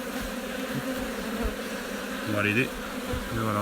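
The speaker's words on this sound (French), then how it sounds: "Voilà, ça c'est la naissance d'une petite abeille." Honeybee buzzing close by inside a hive as a young bee emerges from its cell, a steady droning hum with brief louder buzzes, under a voice speaking softly.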